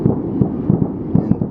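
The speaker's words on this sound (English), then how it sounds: "Fireworks in the background." Fireworks in a park in Tumen, China, near the North Korean border, make a dense run of rumbling booms and pops, steady and fairly loud with no pauses.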